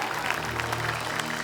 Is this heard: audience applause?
yes